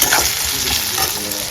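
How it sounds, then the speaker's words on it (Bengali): Tomatoes going into a pan of fried onions for Bengali egg curry, a dense close sizzle with continuous stirring and scraping, loud and steady throughout, no voices. "এখন টমেটো দিয়ে দেবো।"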